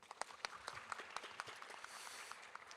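Forum attendees in a grand ballroom applaud after a presentation, a faint, distant, steady patter of many hands with a few sharper individual claps standing out.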